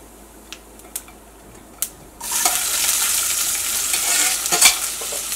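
Onion goes into a pan of popping mustard seeds, golden urad dal and crushed garlic. A few faint taps come first, then a loud, sustained sizzle starts as the onion is stirred in nearby.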